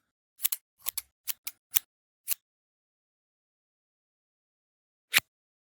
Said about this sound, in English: Cut off the tail of the fish.